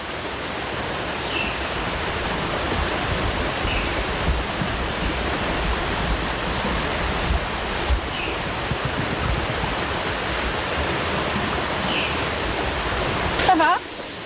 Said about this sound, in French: La rivière du Galion fait son apparition.